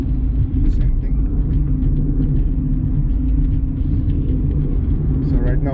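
Hyundai Accent engine droning inside the cabin while accelerating in fourth gear, a loud steady low rumble with constant road noise and a voice talking over it.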